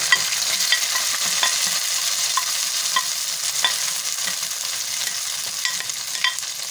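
Chopped dry fruits and nuts for sheer khurma fry in a pan with a steady bright sizzle, broken by occasional crackles and stirring scrapes, close up, with no voices.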